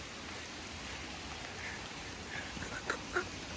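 Steady rain falls outdoors on a street, a constant hiss of drops on surfaces with a few louder close patters near the end; no talking.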